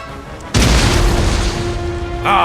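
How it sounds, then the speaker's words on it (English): A single deep, booming cannon blast in the video game Empire: Total War erupts suddenly, then rumbles and fades with a ringing tail, followed by a brief clatter of game effects. "Keep up the pressure by firing your cannons at the enemy militia."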